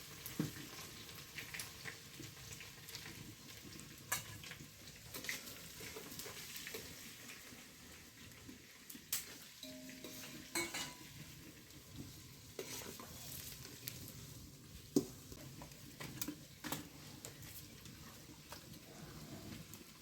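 Chopped onion frying in a hot pan for a traditional Karnataka dish, with a steady sizzle broken by frequent stirring scrapes and clicks of a spoon against the pan, no talk.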